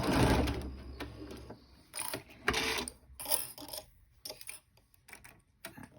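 Mechanical whirring and clattering of a sewing machine running in short bursts, fairly close, with pauses between stitching runs.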